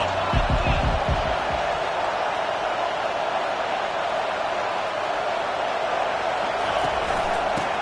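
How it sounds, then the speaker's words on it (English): A stadium crowd roars on third down in a college football video game, a steady loud wash of cheering that holds throughout, with a few low thumps early on and commentary running over it. "Decibels rising as the crowd gets behind this defense on third down."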